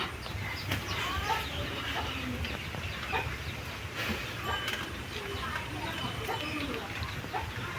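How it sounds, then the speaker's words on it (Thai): Chickens cluck and squawk at a rural family farm while being chased by a dog, agitated bursts of fowl calls near and far, with people talking in the background. "ไอ้ทงไหลไก่เนาะ"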